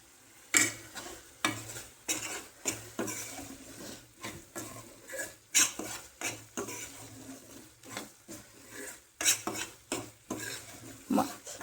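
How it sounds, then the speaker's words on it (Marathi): Paneer and masala stirred in hot oil in a pan over medium gas, with a spoon scraping the pan in uneven bursts of close, moderately loud strokes over a soft sizzle. No talking. "मसाला पण परतून घ्यायचा तेलामध्ये, खूप छान होतं मग"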